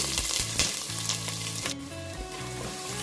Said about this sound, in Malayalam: ഇത് പൊട്ടി വരുന്ന സമയത്ത് ഇതിലേക്ക് ചെറിയൊരു കഷ്ണം സവാള അരിഞ്ഞത് ചേർത്ത് കൊടുക്കാം